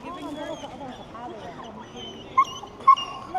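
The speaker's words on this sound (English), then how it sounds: "Oh, that dog's doing my head in." A dog in Coventry whimpers and yips in short, sharp bursts against a background of people talking outdoors, with the cries rising briefly above the voices.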